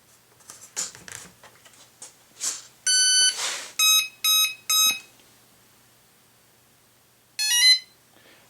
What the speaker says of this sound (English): the increasing triple set of tones, is that the speed controller is saying, yep, I'm good to go